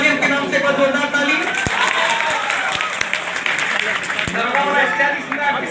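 Loud, dense crowd applause for a women's battalion at an award gathering, sustained throughout with scattered sharp claps and cheering voices mixed in.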